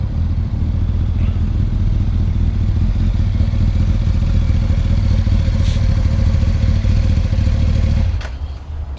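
A Honda CBR1000F motorcycle engine drones loudly and steadily, held at a constant pitch, then cuts off abruptly near the end.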